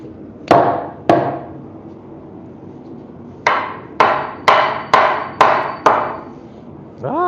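Sharp hammer blows ring out while framing wooden walls: two strikes, a pause, then a quick run of five or six evenly spaced hits, each with a short metallic ring.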